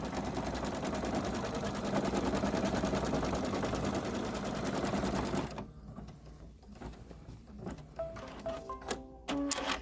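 A home embroidery machine stitches a shamrock coaster held in the hoop, whirring in a steady rapid rattle for several seconds before stopping, followed by quieter clicks and handling noises.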